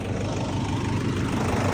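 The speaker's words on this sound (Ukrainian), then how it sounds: "Двигун робить класно, без питань." Pickup truck engine idling with a low, rumbling, steady drone, close and fairly loud throughout with no revving or pauses.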